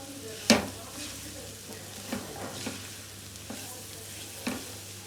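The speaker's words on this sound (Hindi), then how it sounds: "अब हम अच्छी तरीके से इसको मिक्स कर लेंगे" Hot and sour soup stirred in a pan, a soft steady simmering hiss with a few sharp spoon clinks and light scrapes against the metal, close and fairly quiet.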